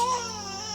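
A storyteller's voice imitates the infant Krishna crying at dawn, a brief high wavering wail held over a steady musical drone.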